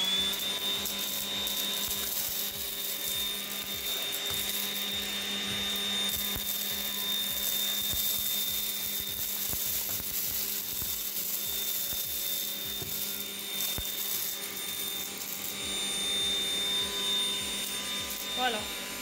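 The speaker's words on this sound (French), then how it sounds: "Je vais vous montrer l'aspirateur, vous allez voir." A bagless vacuum cleaner on medium speed sucking up lentils, a steady loud whine and airflow roar with scattered small rattling ticks of debris, running continuously up close.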